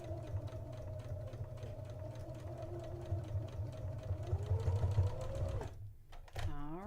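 A sewing machine stitching a folded edge on a children's dress with rickrack trim runs at a steady rapid hum and needle chatter for several seconds, then stops with a short clatter.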